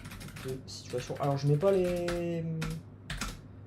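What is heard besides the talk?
typing on an American computer keyboard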